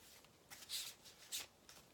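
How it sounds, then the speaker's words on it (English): Tarot cards riffle and slide against each other in a few quick, soft bursts, quiet and close, with no voices. "Interesting shuffling today."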